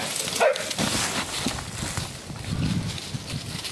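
Dogs barking while out hunting rats outdoors, a few sharp barks and yips close by over rough, noisy background.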